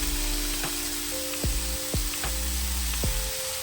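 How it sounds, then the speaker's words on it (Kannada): Tomato masala for village-style mutton sambar fries in a pot with a constant crackling sizzle, while several sharp scrapes of a spoon stirring sound at intervals over a low background hum. "ಎಲ್ಲ ಚೆನ್ನಾಗಿ ಈ ಥರ ಫ್ರೈ ಮಾಡಿ, ಚೆನ್ನಾಗಿ ಫ್ರೈ ಆಗಿದೆ."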